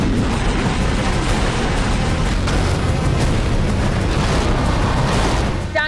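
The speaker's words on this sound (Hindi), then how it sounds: "लगातार गोले बरसा रहा है।" Heavy artillery shelling in the Armenia–Azerbaijan war: a dense, continuous roar of booming blasts and rumbling detonations, loud and sustained throughout with no clear pauses.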